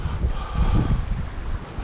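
Strong gusty wind buffets the microphone on a riverbank during a brown trout fishing outing in southeast Minnesota, a rough rumbling roar filling the short stretch with no voices.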